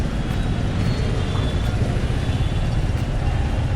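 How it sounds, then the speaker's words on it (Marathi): Road traffic heard from a motorcycle in a Marathi-speaking town: a dense, steady low rumble of engines and wind, loud and continuous with no distinct passes. "इथे हे असंच ट्रॅफिक असतं ॲज युजल, काही चेंजेस नाही"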